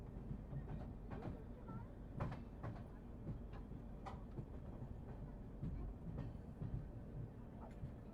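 The Arunachal Express passenger train rolling into Harmuti Junction in Assam: a steady low rumble from on board with scattered rattles and clicks of the carriages, faint and continuous.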